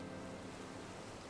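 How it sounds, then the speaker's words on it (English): Steady rain falls in a video game as a dense, even hiss, faint and continuous, with no voices or other sounds over it. "It's even raining"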